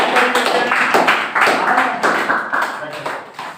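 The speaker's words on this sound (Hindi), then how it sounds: "ताली बजाओ जरा" Students in a classroom clap for a classmate called up to receive a prize, a brisk, close burst of applause mixed with voices.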